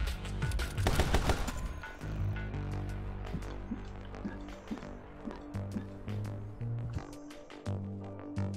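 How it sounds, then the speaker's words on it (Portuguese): Rapid bursts of gunfire from the game My Friend Pedro, a loud volley at the start followed by sharper scattered shots over a thumping music beat. "Ah, você atira em mim ainda, amigo?"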